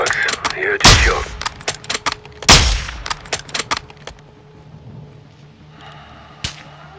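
Loud gunshots in a Call of Duty Modern Warfare II battle, two heavy close blasts among rapid cracking shots, tapering off to quieter ambience and one last distant report.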